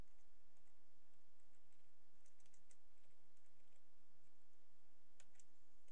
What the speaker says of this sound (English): you want to type in HTTP, whatever your IP is.